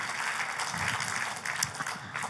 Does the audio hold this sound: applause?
yes